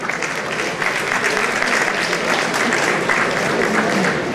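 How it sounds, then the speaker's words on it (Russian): Applause from an audience at an award ceremony celebrating rocket and space technology, steady dense clapping throughout, fairly loud and close, with a few voices mixed in. "аплодисменты."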